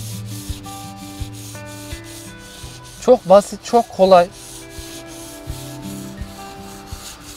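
A knife blade rubs against sandpaper in about four quick, rasping strokes bunched together midway, loud against soft background music, with someone speaking briefly.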